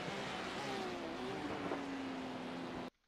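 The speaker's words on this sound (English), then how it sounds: "I hear a car behind him." NASCAR race car at Atlanta running behind another car, a steady engine drone with a rising then falling pitch as it passes, cutting off abruptly near the end.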